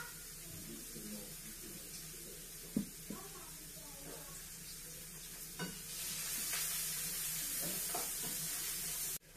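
Garlic sizzles in a frying pan for a filet mignon stuffed with mushrooms, a steady hiss that swells louder in the second half, with a few utensil clicks and stirring sounds near the start.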